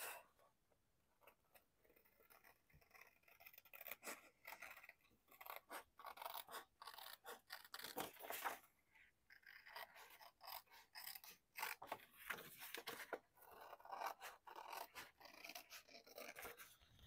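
Scissors cut curves into paper as the sheet is turned, giving faint, close, irregular snips and rustling scrapes in short bursts, with no talking.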